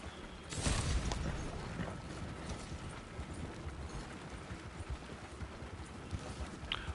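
Horse hooves clip-clopping in Red Dead Online as two riders share one horse in the city of Saint Denis, a steady run of hoof beats under busy ambient noise, with a louder burst near the start.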